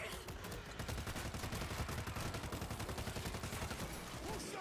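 Sustained automatic gunfire from the zombie shooter World War Z rattles in rapid, dense bursts for several seconds, loud and continuous, with faint voices underneath.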